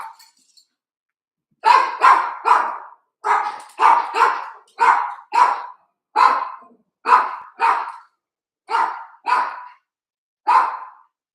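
A dog barks at a delivery arriving at the door of a home, sharp loud barks landing in uneven bursts of two or three, with short silent gaps between them.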